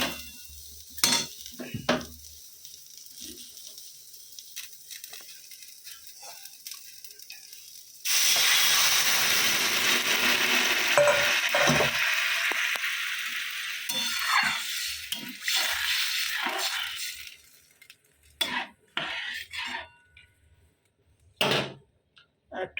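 Water poured into a pan of hot tempering of cumin, five-spice, chilli and bay leaf for tarka dal bursts into a loud, steady hiss around the middle, preceded by stirring clinks and fading into scattered clatter.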